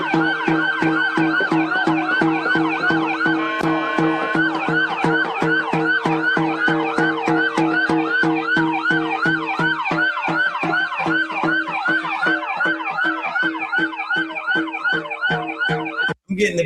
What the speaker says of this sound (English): I'm getting the beat of the siren more so than the drum.